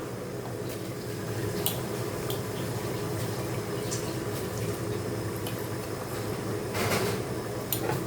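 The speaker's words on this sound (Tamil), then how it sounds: "இப்போ அரிசியை சேர்த்துடலாம்" Rice poured into a pot of boiling water for vegetable biryani, a steady bubbling hiss with faint scattered ticks and a brief louder rush of grains near the end, moderately quiet and without talk.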